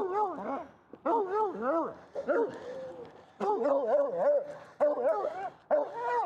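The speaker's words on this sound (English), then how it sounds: "there's a pup right there" A young dog vocalizes close by in repeated bursts of whiny, yelping barks and whimpers, several rising and falling cries separated by brief pauses.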